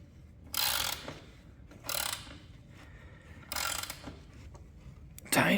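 A ratchet wrench tightening bolts on a Razor MX350 electric motorcycle wheel during a tire replacement, four bursts of rapid clicking separated by quieter pauses, close and fairly faint.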